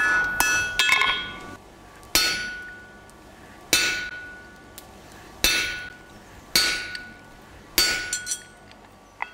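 Blacksmith striking a chisel with a hammer to cut a hot metal tie bar, sharp ringing metallic blows about every one and a half seconds, with a few quicker light taps between, close and alone.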